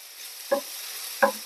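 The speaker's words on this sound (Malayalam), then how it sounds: "എല്ലാം കൂടെ നല്ല നന്ന് വഴിച്ചെടുക്കാം" Tomato, onion and grated coconut are sautéed in a pan for egg curry, with a faint background sizzle and two brief scraping strokes of the spoon.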